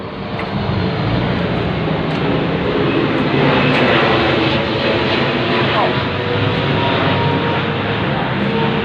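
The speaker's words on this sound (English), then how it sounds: "the plane going over the roof right now" A propeller airplane drones loudly overhead, passing over a roof, a continuous broad roar that stays steady and heavy for several seconds.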